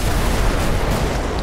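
A continuous roaring explosion blast from the video game GTA5 with a Thanos mod, dense and loud across the whole clip with no pauses.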